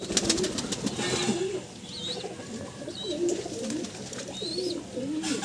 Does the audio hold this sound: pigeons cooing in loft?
yes